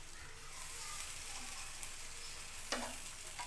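Beaten egg stirred onto a sizzling dosa on a hot pan gives a steady, even frying hiss with a few soft scraping touches, close and without talk.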